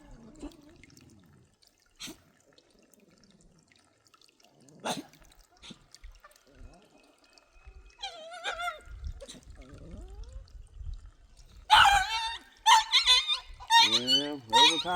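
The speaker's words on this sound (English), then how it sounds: "every time I come out and try to film here, them dogs just go crazy" Dogs barking outdoors, with faint scattered sounds at first, then a few barks midway and a louder run of close, sharp barks near the end.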